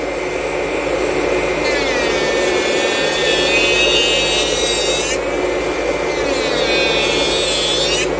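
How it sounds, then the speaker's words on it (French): An electric nail sander files gel nails during a refill, giving a steady high-pitched whine with shifting pitch and a gritty grinding layer underneath, close and continuous. "Alors surtout faites attention si vous utilisez une ponceuse, il ne faut jamais appuyer sur l'ongle"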